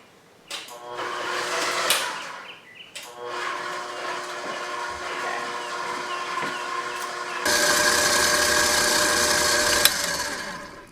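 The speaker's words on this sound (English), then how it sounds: "we're going to beat it in the blender for 5 minutes until it comes like a paste" A blender motor whirs steadily, beating butter and oil, with a rising, grinding hum, briefly pausing near three seconds, then growing louder and harsher for the final few seconds.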